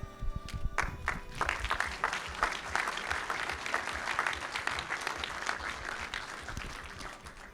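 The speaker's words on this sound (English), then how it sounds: "round of applause" Applause from an audience at a community forum in Canberra, a dense, steady wash of clapping that holds for several seconds at close range, with brief voices near the start.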